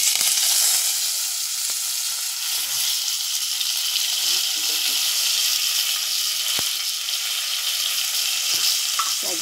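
Turmeric, asafoetida and curry leaves sizzle steadily in hot oil for tempering sambar, a loud continuous bright hiss with a few faint clicks.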